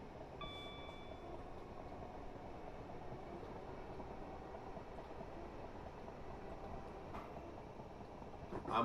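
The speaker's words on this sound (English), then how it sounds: "We have another train coming through." A train rolls past on a South London rail line in snowy weather, a steady broad rumble holding at an even level throughout, with a brief brighter squeal or ding near the start and end.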